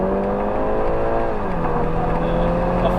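A police car's engine builds power, its tone holding and then dropping as the gear changes before climbing again, heard close and steady over road and wind noise with no talk.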